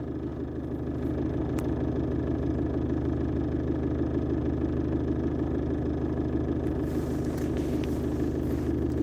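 Family car engine idling loudly and roughly like a tractor, a steady low rumble with constant vibration heard from inside the cabin, unbroken throughout with no talking.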